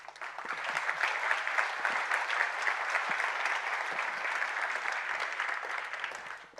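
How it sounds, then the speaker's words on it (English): Audience at a BricsCAD BIM V20 software keynote applauding, a sustained dense wave of clapping from a large crowd that holds steady for several seconds before tapering slightly. "Team, you get all the claps."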